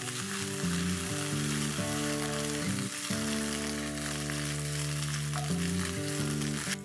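Dal sizzles and fries steadily in a pan as ginger and green chili paste goes in, a continuous close crackle with faint stirring, no talk.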